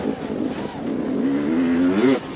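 A big enduro motorcycle on a rocky, root-strewn downhill track, its engine revving loud and close and climbing steadily in pitch for about two seconds before cutting off abruptly.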